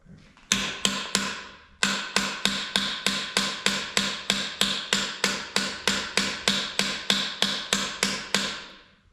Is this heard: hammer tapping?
yes